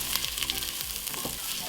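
Onion sautéing in a pan for Somali fried rice, a steady close crackling sizzle with a few stirring scrapes and no talk.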